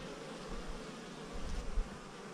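Honey bees buzz steadily around their hives on a far west NSW property, a dense continuous drone from many insects close by with faint wind rumble underneath and no talking.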